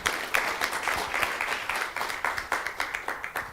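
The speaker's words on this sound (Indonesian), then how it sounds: "Tepuk tangan sekali lagi untuk Habibie Center." An audience claps for the Habibie Center in a close, lively round of applause, with individual sharp claps standing out in a loose rhythm throughout.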